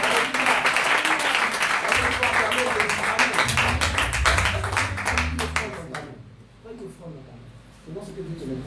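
A church congregation applauding, a steady dense wash of clapping that swells mid-clip and then thins and fades toward the end, with talk under it.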